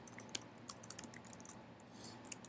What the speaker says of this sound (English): sorry, I'm, like, not typing very well